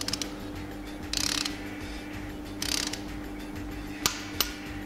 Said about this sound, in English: Pick up the torque wrench, adjust it to manufacturer specifications and torque the bolt.